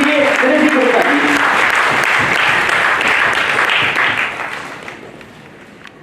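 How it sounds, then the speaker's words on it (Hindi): Loud, sustained applause from an audience at the Atal Samman award ceremony in the Parliament of India, dense clapping that carries for several seconds before fading away. "जोरदार ताली दीजिए रजी गुप्ता जी"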